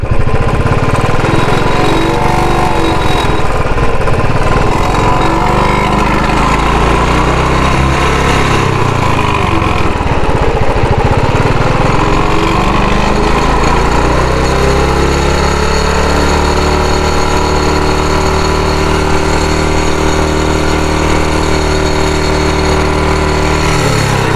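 A loud small vehicle engine runs steadily with a harsh metallic rattling and buzzing from a blade touching a part, revving up and down and then settling into a steady drone.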